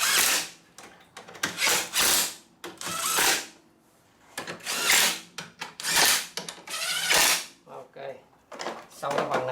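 A power tool tightens bolts on a Mercedes radiator, sounding in loud, repeated whirring bursts of varying length with short pauses between them.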